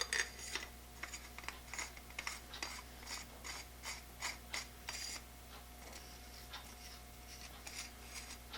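A Millers Falls push drill works its spiral plunger mechanism, giving a quiet, close series of dry ratcheting clicks in an uneven rhythm, roughly two per second.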